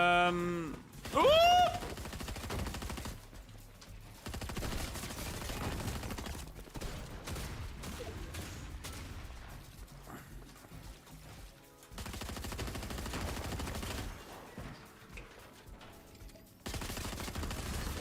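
Rapid SMG fire in the Fortnite video game, dense bursts of automatic gunshots running through most of the stretch amid game effects, with a brief squeal near the start.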